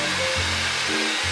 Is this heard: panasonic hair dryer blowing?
yes